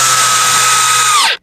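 A power drill drives a screw into a wooden deep brood box for a beehive, its steady, close, loud whine holding for over a second before cutting off abruptly.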